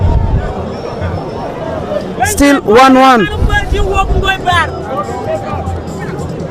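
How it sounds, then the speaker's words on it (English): Crowd at a live football match between Nebbi Central FC and Iganga United, a dense babble of voices and shouts swelling into a loud cheer mid-way, with a commentator talking over it and wind noise on the microphone. "You can hear from the crowd. The crowd is very much supporting the team."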